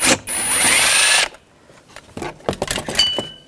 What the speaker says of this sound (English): Using a 7mm socket, there's a screw in here. I'm going to take that screw out.